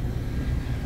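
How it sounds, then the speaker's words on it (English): An indoor blower motor of an air conditioning unit runs with a steady, close, broadband whoosh and low rumble, constant throughout with no voices. "Indoor blower motor's running, 203 volts, 4 amps."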